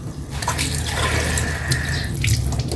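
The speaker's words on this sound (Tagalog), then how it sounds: "Paglalagay na ako ng tubig." Water pours in a steady stream into a cooking pan for a couple of seconds, splashing close by, then trickles off.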